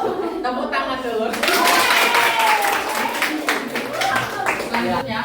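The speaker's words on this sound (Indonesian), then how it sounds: "Tepuk tangan dulu." A classroom of pupils breaks into loud, dense hand clapping after a short stretch of chatter, the applause swelling quickly and holding steady close by with some voices and laughter mixed in.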